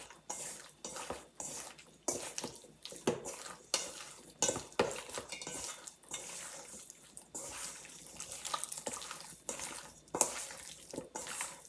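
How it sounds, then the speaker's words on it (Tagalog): Dry ingredients, including baking powder, are worked by hand into raw chicken for Korean fried chicken, producing close, soft, repeated squelching and rustling bursts in an irregular rhythm, fairly quiet, with no voices. "Na-mix up na natin lahat ng ating dry ingredients sa loob ng ating chicken."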